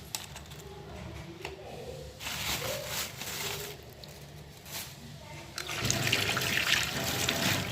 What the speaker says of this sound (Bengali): চলো সবজিটাকে ধুয়ে তুলে নিই